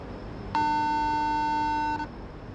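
One sustained, steady ringback beep from an outgoing phone call rings out clearly for roughly a second and a half, then cuts off into near silence.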